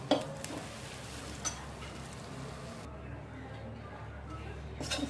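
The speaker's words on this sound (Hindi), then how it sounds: "अच्छी तरह से इसको भून लेंगे।" Whole spice masala dry-roasting in a pan at home, with a soft continuous sizzle and occasional scraping stirs over a low steady hiss, no voice over it.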